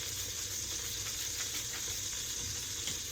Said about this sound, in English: I got my butter sizzling here on the side